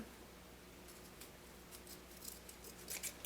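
Faint snipping of poor-quality scissors, a few quick cuts growing denser toward the end, close by in a quiet room.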